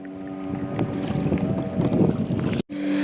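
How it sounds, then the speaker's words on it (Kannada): A motorboat on Rangarayana Doddi lake near Bangalore, approaching from a distance, makes a steady low engine drone with wind buffeting the microphone, and a brief dropout near the end. "ನೋಡಿ, ಇನ್ನೊಂದು ಬೋಟ್ ಬರ್ತಿದೆ, ತೋರಿಸ್ತೀನಿ ದೂರದಿಂದ."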